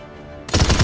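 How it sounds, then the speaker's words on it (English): Assault rifle firing in the shooter game Paladins: after a quiet lead-in, a sudden loud burst of rapid automatic shots erupts, several sharp cracks in quick succession. "Your primary weapon is your assault rifle."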